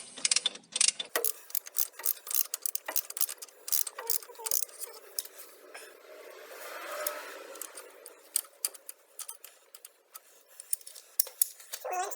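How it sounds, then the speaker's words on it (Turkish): Close, rapid ratchet clicking comes in repeated bursts as a transmission oil fill plug is unscrewed, with no voices over it. "Bunu bir gözlemlemek adına burayı bir söküyorum"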